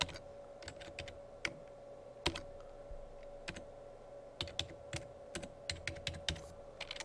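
Typing on a computer keyboard while filling in a business letter in Microsoft Word 2007, with irregular bursts of close, crisp key clicks separated by short pauses.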